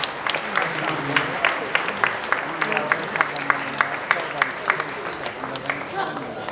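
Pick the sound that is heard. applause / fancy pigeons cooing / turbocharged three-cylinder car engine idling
applause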